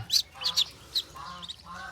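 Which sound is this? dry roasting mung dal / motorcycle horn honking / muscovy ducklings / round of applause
muscovy ducklings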